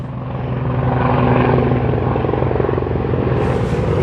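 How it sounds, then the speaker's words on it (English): A really loud helicopter flies close overhead, its dense rotor rumble and rhythmic chop filling the sound steadily and alone, with a brief hiss near the end. "that is a really loud helicopter"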